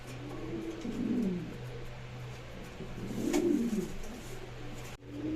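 Fancy pigeons, including a large black one, coo softly nearby, with two low, rolling coos separated by a pause over a quiet background hum.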